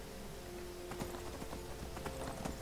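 A horse in the video game Skyrim trots with rhythmic hoof clip-clops, a steady, close, moderately loud beat.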